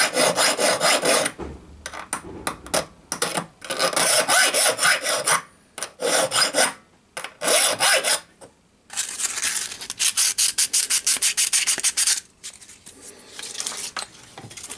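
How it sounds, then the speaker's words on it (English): A parallel round chainsaw sharpening file rasps across metal for boiler cladding tube work, in loud, rhythmic back-and-forth strokes with brief pauses between runs, close up and without talk. "It's a chainsaw sharpening file."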